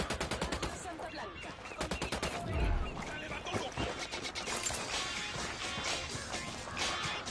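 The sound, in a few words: gunfire in the video game Ghost Recon Wildlands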